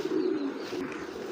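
Pigeons coo softly in a low, steady murmur, several birds overlapping in a continuous throaty drone with a brief faint chirp near the end, close by and without talk.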